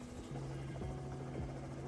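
A helicopter flies over the Okavango Delta in Botswana with its doors removed, giving a steady, loud engine drone with a low rotor hum throughout and no voices.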